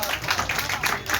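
An audience claps at a Hindi poetry gathering in a temple hall, a dense close burst of many hands beating together in quick uneven patter.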